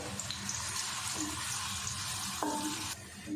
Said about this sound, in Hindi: प्याज हमारा अच्छे से फ्राई हो गया